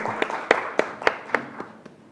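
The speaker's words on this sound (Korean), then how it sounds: "박수로 맞아주십시오" Scattered, sparse clapping from a small audience welcoming a student speaker at a youth speech contest, a handful of distinct claps spaced irregularly and fading out over about two seconds.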